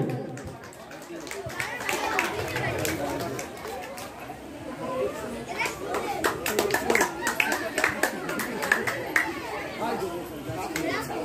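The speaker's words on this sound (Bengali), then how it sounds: "বাচ্চাদের কাছে একটু চাইব জোরদার করতালি" Children clapping at a go-as-you-like competition in Ramchandrapur, South 24 Parganas, scattered then livelier hand claps amid crowd chatter and voices talking throughout, fairly close.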